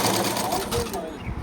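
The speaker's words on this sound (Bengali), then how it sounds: "তো আমি এখানে এইভাবে একটা চাপ সেলাই মেরে নেব।" A sewing machine stitches fabric for a princess-cut blouse with a steady, close mechanical whir that fades slightly toward the end. A person talks over it.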